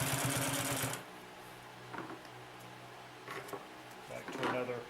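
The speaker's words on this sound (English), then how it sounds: "So we're going over an 8 layer seam." A Consew P2339 double-needle walking-foot sewing machine stitches through a thick eight-layer seam: a brief rapid mechanical rattle at the start, then quieter intermittent clunks, faint and close with little else around.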